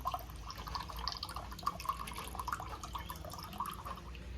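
A thin stream of water runs from a homemade sugarcane juice press into a glass, with continuous light dripping and splashing close by.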